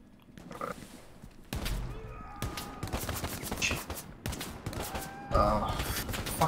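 Rifle and machine-gun fire around an outpost in Hell Let Loose, with repeated sharp cracks and scattered bursts, some near and loud, some farther off, mixed with in-game shouting and voices.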